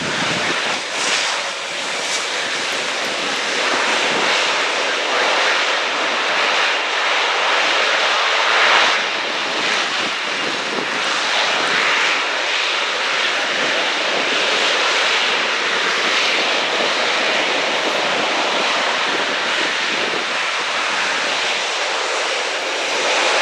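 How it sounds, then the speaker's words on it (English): An Airbus A400M Atlas four-engine turboprop military transport flying an air display at an airshow: a loud, sustained propeller and engine roar that swells slightly mid-pass, heard throughout with no voices. "Large aircraft that size going backwards under its own speed."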